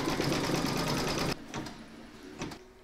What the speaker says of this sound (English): Pop your hoop into your machine and stitch round number 7, and that's going to zigzag along these two